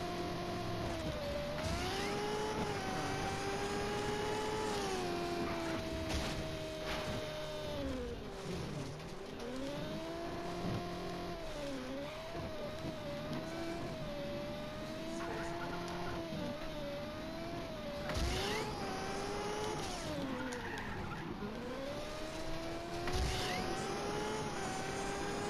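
A Formula 1 car engine in Just Cause 3 drones continuously at close range, its pitch repeatedly climbing and dipping as it revs, accelerates and shifts through a long drive.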